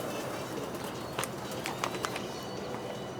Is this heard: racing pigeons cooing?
yes